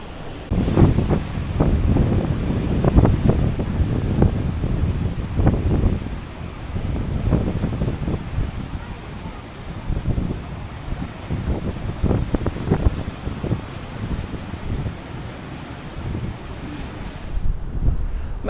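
Atlantic Ocean waves break and surge beside the natural sea pools of Madeira, rolling in repeated swells under strong gusty wind buffeting the microphone, with no voices.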